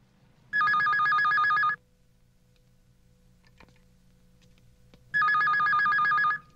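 Telephone ringing in two loud, trilling bursts about a second long, separated by a quiet pause, with faint room ambience between rings.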